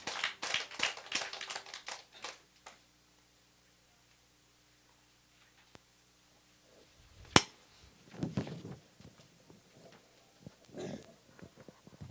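A church congregation at a Sunday service claps to welcome a children's special song: a dense burst of hand-clapping at the start that quickly dies away, followed by near silence and scattered faint room noises.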